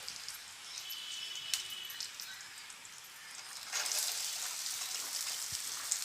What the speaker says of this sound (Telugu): ఇది బెండకాయ ముక్కలు సన్నగా ముక్కలుగా కట్ చేసుకున్నాను వేసుకొని వేయించుకోవాలండి